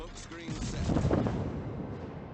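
Naval guns fire from the destroyer Lightning in World of Warships, a dense rumbling burst of shots and booms that fills the short moment, with a voice talking over it.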